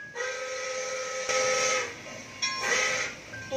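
A train whistle sounds at the Tutuban rail transit hub in two loud, sustained harmonic blasts separated by a brief gap, with no talking.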